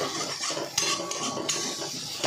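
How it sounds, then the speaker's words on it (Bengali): A spoon stirs potatoes and spices in a metal pot with scraping and clinking, with a few sharper knocks against the side, close and alone without talk. "আরেকবার ভালো করে নাড়িয়ে দিতে হবে"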